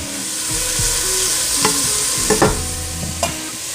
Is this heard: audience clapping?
no